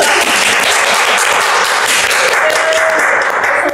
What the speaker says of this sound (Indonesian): Keren, tepuk tangan dulu dong guys.